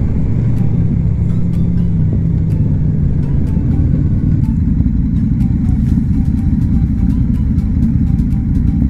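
Motorcycles pass during an Octobre Rose charity motorcycle rally, a loud, constant engine rumble and roar with clicking and crackling on top, close by, as a crowd murmurs in the background.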